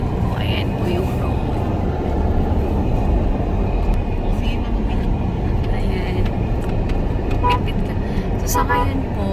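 A large truck passes on a one-way rural road by a farm lot in Macamot, Binangonan, Rizal, giving a loud, steady, close engine and tire rumble with a brief horn-like toot.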